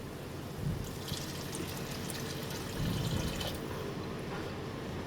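Liquid being poured into a pot of biryani rice in a home kitchen, heard as a steady splashing trickle with a few louder gushes, close by.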